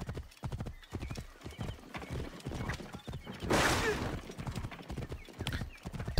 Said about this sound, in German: da ist es doch, unser Pferdchen